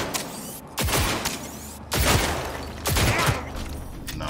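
Gunfire in Cyberpunk 2077, three loud bursts of shots about a second apart with mechanical rattle between them, close and without talk.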